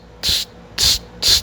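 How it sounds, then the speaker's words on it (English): Three loud, evenly spaced cricket chirps, each a short bright burst about half a second apart, alone over a quiet background. "You know what that is? Fucking crickets."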